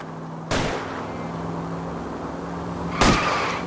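Two loud gunshots from the L.A. Noire video game, roughly two and a half seconds apart, each a sharp crack with a short ringing tail over a steady engine drone.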